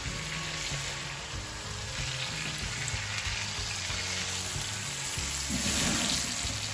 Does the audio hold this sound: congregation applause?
no